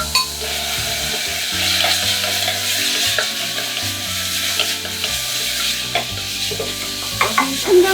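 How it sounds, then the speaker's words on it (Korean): Beef stir-fried in a pan during a Korean royal court cuisine demonstration, a steady loud sizzle broken by repeated scraping and stirring strokes of a utensil, with occasional clinks and no voices. "먼저 볶아주죠. 볶아주고"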